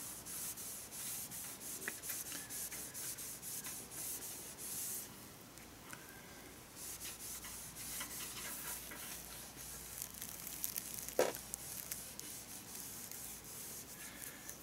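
Soft, steady rubbing of thin Tru Oil finish onto a stripped gun stock, a faint continuous friction hiss with a few brief scrapes and one sharper tap near the end, no voices.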